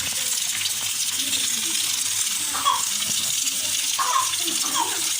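Water pours steadily into a cooking pot in a rural home kitchen, a continuous splashing rush with a few brighter trickling accents.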